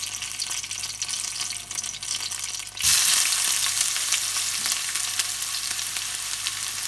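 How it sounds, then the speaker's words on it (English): Chopped onions drop into medium-hot oil already flavored with whole chili for an eggplant curry, setting off a sudden loud, steady sizzle and crackle that holds for several seconds after a quieter lead-in. "Okay, so we're gonna go in with the onions"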